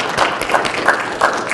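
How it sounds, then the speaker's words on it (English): Applause from a crowd at a high school leadership speech contest, steady broadband clapping with several louder bursts, fairly close, lasting just over a second. "a round of applause for our speakers"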